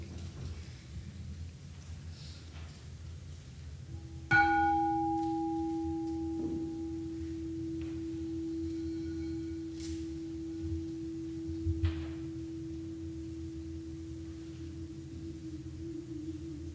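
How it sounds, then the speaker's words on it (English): Singing bell rung to open a Unitarian Universalist church service, one clear struck tone that rings on with a long steady hum sustaining for many seconds, alone in a quiet room. "ring the singing bell to help us enter into the service more deeply"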